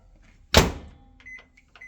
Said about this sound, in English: What you do, you put it in the microwave.